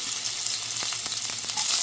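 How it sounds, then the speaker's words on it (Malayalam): Mustard seeds spluttering in hot coconut oil: a bright, continuous sizzle with scattered sharp pops and crackles, close and alone with no voices. "വെളിച്ചെണ്ണ ചൂടായ ശേഷം കടുകിട്ട് ഇവിടെ പൊട്ടിച്ചെടുക്കുവാണ്"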